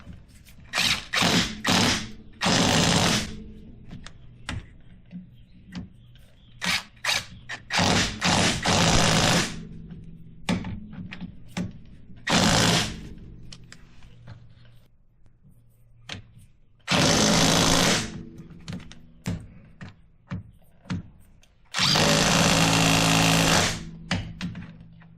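Bolts on the drive shaft of a 2009 Polaris Ranger are run tight with a ratcheting tool in loud, close bursts of rapid clicking, separated by quieter gaps with scattered clinks and handling noise.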